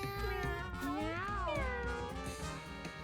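A cat in a video game gives a drawn-out, wavering meow over steady game background sound.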